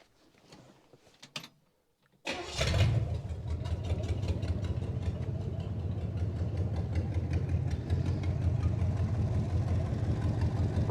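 A 1964 Chevrolet Impala, one owner and sitting since 1983, fires up after a brief crank and settles into a steady, loud idle with a deep, even rumble that runs continuously to the end.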